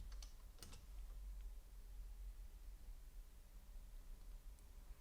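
Keys clatter on a computer keyboard in a short quick burst at the start, then only a faint hum of room noise remains.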